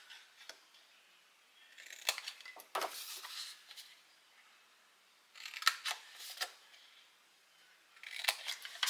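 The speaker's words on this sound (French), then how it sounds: "On coupe tout droit et vous enlevez les carrés." Scissors make short, crisp snips through paper squares for a photo storage box, in several quiet bursts separated by brief pauses, close up in a still room.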